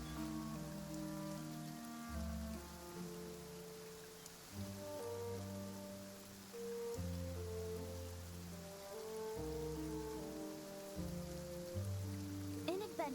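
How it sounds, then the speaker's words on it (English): A heavy rain downpour patters steadily in the video game Genshin Impact, a constant wash of rainfall heard quietly beneath tonal background music. "quite a downpour. Nothing will get done until it clears."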